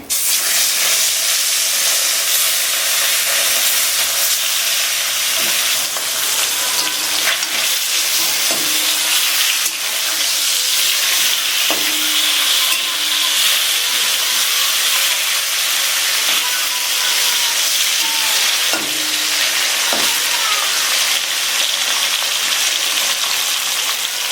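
Steady, loud sizzling and crackling of rohu fish frying in hot oil, continuous throughout with occasional soft clinks of a utensil.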